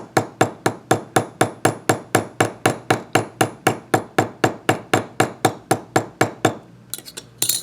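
Rapid, regular hammer blows peen over a spacer rivet, roughly two dozen crisp metallic strikes at a brisk, unbroken pace, loud and close, trailing off into a few scattered clinks.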